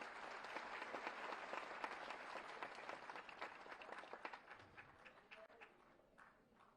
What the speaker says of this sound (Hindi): आप सभी अपनी तालियों की शुभकामनाएं मंच तक पहुंचाएं।